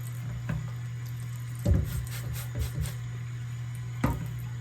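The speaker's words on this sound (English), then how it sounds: "with the water running slightly, that way everything kind of goes down the drain" Tap water runs at a low trickle into a bathroom sink drain, a steady soft hiss broken by a few louder splashes and knocks from scrubbing at the basin.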